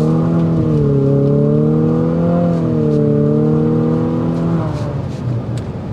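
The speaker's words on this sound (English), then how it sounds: "You're gonna get a drone-like exhaust note." Turbocharged four-cylinder engine of an Infiniti QX50 Sport accelerating hard, a steady droning exhaust note that climbs in pitch, eases, then rises again before dropping off as the revs fall.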